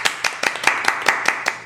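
Steady rhythmic clapping from a seminar audience, about nine sharp claps in an even beat, close and clear with no talking.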